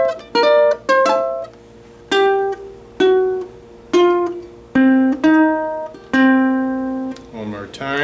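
Slow guitar chords with open and fretted strings, struck in separate rhythmic groups with pauses between, each chord ringing out clearly with bright harmonics, close and loud, no voice.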